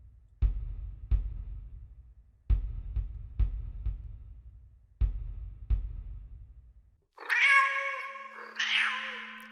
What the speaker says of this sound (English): I'm merely demonstrating that this shows the cat's meow.